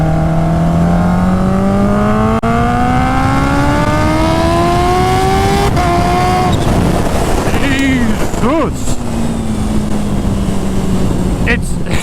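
A Kawasaki Ninja H2R motorcycle accelerating hard on back roads, engine pitch climbing steadily through gears with brief shift breaks, loud and close under wind rush, with a rider's voice exclaiming near the end.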